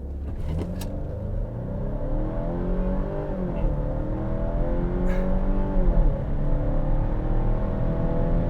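A 2023 Volvo XC60 B5 accelerating hard from a standstill: engine note climbing steadily through the gears, with a brief shift dip, heard loud and close from inside the car.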